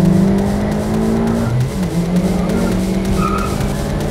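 A Volkswagen Polo GTI and a Toyota Yaris accelerating side by side in a drag race, loud steady engine roar with rising and shifting pitch and faint tire noise, close and continuous throughout.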